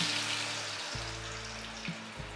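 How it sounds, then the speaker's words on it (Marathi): Medu vada frying in hot oil gives a steady, bright sizzle with a low bubbling undertone that swells briefly as the batter drops in, close and continuous with no talking. "आता आपण हा वडा तळून घेऊया"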